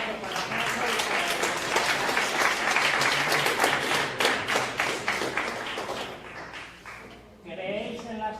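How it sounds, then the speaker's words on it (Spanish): Loud, sustained applause from a crowd, dense clapping that fills the room before tapering off near the end as a voice begins. "un fuerte aplauso para Nando."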